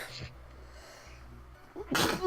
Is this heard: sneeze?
yes